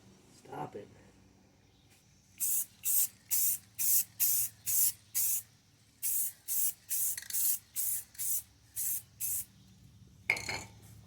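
Aerosol spray paint applied to the bumper trim of a 2011 Subaru Outback in a series of about fifteen short, even hissing bursts with brief gaps, close and loud, with a faint voice murmur at the start.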